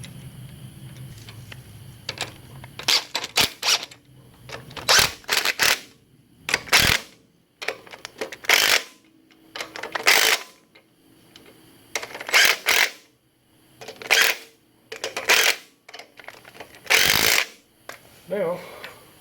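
U-bolts being tightened on the steering arms of a 1966 Ford Bronco under restoration, heard as a series of short, sharp metallic ratcheting bursts separated by brief pauses, close and fairly loud.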